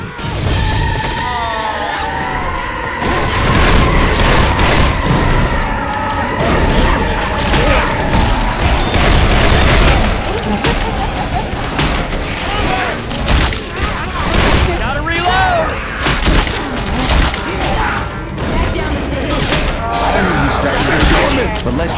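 Friendly-fire gunfire in Left 4 Dead 2 on Dead Center in versus mode, with rapid, loud bursts of shots packed densely over a busy, near-constant game soundscape.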